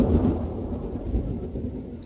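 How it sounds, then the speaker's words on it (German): Deep, steady rumbling of a thunderstorm in World of Warcraft, a continuous low roll of thunder filling the whole stretch, loud and without clear breaks. "Hört man das? Dein Gewitter?"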